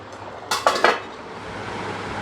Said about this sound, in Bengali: এবার আমি গ্যাস অফ করে এই গরম অবস্থায় ঢাকা দিয়ে রেখে দেবো